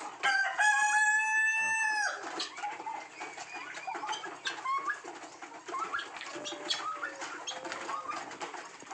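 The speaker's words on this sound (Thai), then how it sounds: "ไก่ต๊อกนะครับ" A loud harmonic guinea fowl call for about two seconds, followed by quieter scattered chirps and clucks from poultry in the background.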